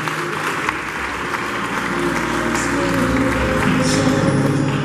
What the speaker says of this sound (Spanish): despedimos también con un fuerte aplauso a nuestras preciosas modelos